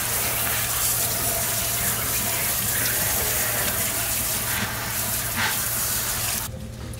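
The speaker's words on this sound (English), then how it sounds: "You just want it rinsed where the color's like done running off." Dyed fabric is rinsed under a running tap, giving a steady gushing rush of water throughout that cuts off abruptly near the end.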